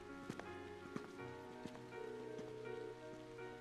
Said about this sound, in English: Just a bit of rain.